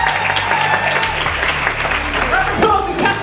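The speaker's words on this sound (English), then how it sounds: "round of applause for Lady Phil" An audience at an LGBTQ awards ceremony in London breaks into steady applause, a dense, sustained clatter of many hands that holds for several seconds, with voices audible in the mix.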